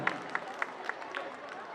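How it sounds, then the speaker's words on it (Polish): A crowd at a charity fundraising event in an indoor sports arena claps in a quick, even rhythm, the beats sounding faint and distant over a low hum of voices. "Wielkie brawa."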